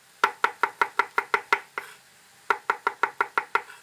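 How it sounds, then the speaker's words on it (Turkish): Garlic cloves being chopped into small pieces with a knife on a board for an oven-baked sliced beef shoulder dish: two quick runs of about eight sharp, evenly spaced knocks, split by a short pause, close and clear with no talking. "Bunları da yine küçük parçalar şeklinde doğruyorum."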